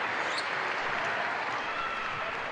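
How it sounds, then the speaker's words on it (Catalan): Crowd applause for a Cadí La Seu women's basketball player at a EuroCup Women game in an arena, a steady dense wash of clapping throughout, loud and continuous. "Aplaudiments la jugadora del Cedis Bàsquet."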